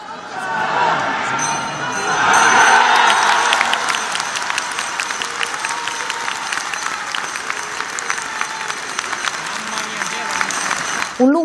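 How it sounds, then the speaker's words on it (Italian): Faithful in a basilica applaud the Madonna statue: dense, sustained clapping from a large crowd swells early, then settles into a steady, echoing patter of individual claps. "applauso ha salutato il simulacro della Madonna"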